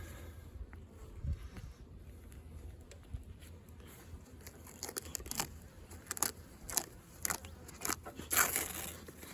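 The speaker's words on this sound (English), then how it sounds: "Here's a nice populated box of bees." Honeybees in a well-populated hive box in an almond orchard during pollination give a faint, low buzz, broken by scattered close clicks and crackles as frames are handled, with rising bursts toward the end.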